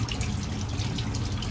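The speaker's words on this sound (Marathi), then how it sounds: "सगळ्यात पहिला मी आता हात धुवून घेते" Water running steadily from a kitchen tap into a sink while hands are washed before making shankarpali, a continuous close rushing splash with no pauses and no talking.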